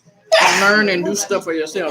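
A single loud, close sneeze bursts out near the start and trails off into a person talking right afterward.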